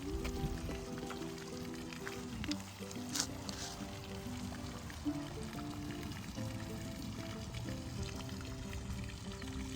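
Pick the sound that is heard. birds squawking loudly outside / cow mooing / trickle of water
trickle of water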